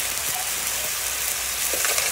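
Mussels with tomato and spices stirred in a frying pan, a continuous close sizzle with faint stirring scrapes underneath.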